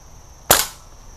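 One sharp, close shot from an Umarex cowboy air rifle or revolver aimed at a piece of metal, a single crisp crack with a short ringing decay over faint background hum.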